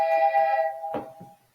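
A phone's ringtone sounds close and loud, a bright steady electronic tone that stops abruptly after about a second, followed by a brief shuffle.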